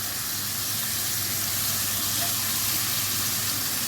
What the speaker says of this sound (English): We're just going to sear them for about 1 minute on either side, just to seal the meat in.